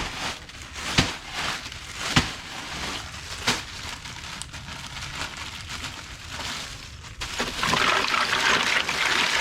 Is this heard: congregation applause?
no